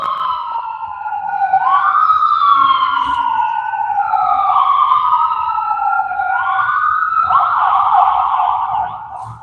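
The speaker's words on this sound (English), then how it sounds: "got an ambulance going by" An ambulance siren wails, sweeping up and down continuously, loud and steady throughout, as the ambulance passes close by with no talking.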